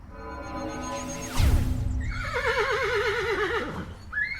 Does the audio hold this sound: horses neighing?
yes